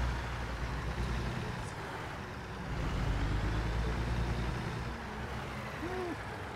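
A truck engine in American Truck Simulator drones steadily with a deep, loud rumble, holding a constant low roar throughout with no talking.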